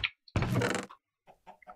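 Chicken in Minecraft clucking in a few short bursts, one louder burst followed by softer quick clucks, no voices.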